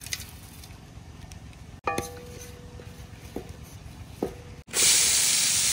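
Butter dropped into a hot kadhai bursts into a loud, sharp hiss and sizzle that carries on to the end, preceded by a quiet stretch with a few metallic clinks of utensils.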